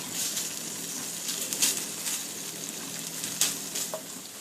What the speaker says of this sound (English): I've got a frying pan on medium-high heat here, and I'm just cooking this bacon until it gets crispy